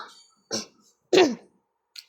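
Two short, dry coughs from a nearby person, separated by a brief pause, followed by a faint trailing breath sound.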